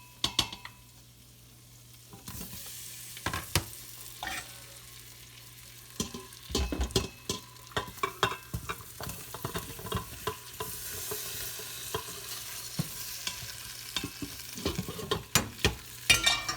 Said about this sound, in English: we're going to saute that garlic in there for just a bit until it gets brown